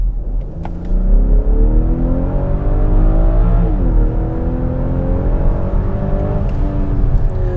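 A 2022 BMW X5 40i with its 8-speed ZF transmission in sport mode accelerates hard, the engine note climbing through rising revs with a shift, loud and close throughout.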